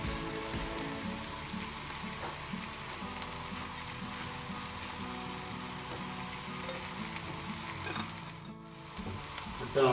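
Coriander masala sautéing in a pan for mutton biryani, a continuous close hiss and sizzle with faint stirring scrapes underneath, steady throughout with no voices.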